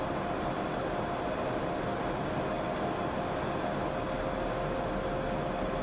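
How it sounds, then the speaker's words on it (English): An airliner's APU in Microsoft Flight Simulator 2020 winds down, a steady, even broadband whine and hiss with a faint tonal hum that stays constant and alone throughout. "APU is currently shutting down"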